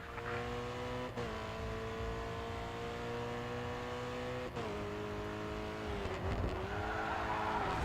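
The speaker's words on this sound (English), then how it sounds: "The engine on this one's incredible." A race car engine in the Grid 2 racing game screams at high revs with rising and falling harmonic tones, dipping briefly at gear shifts, with a faint tire squeal near the end.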